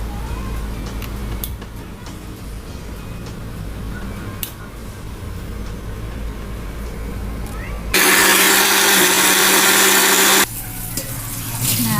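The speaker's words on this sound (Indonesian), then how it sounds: "Kita sesuaikan kapasitas blender dan kita blend." An electric blender whirs loudly through chili, garlic and tomato for about two and a half seconds, bursting in over steady kitchen background noise.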